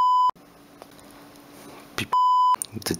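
A Nokia N73 mobile phone emits loud, steady electronic beeps while rebooting, with two long tones separated by a quieter pause and followed by short clicks.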